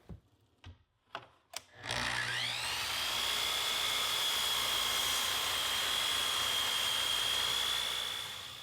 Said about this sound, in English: After trimming 1/4 of an inch off each side of the face frame